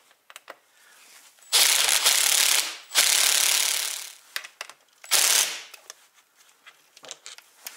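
Fast Trac studs being driven with a powered bit into a Ski-Doo REV Gen4 Ripsaw snowmobile track: three loud, close, harsh whirring bursts of one to two seconds each, separated by quieter clicks and handling noise.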